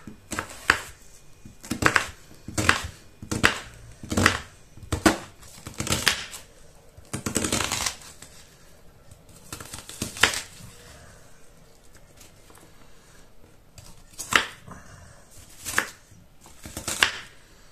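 A knife chops an onion on a board, quick crisp cuts landing in bursts of two or three, close and clear, with a short lull partway through and no talking.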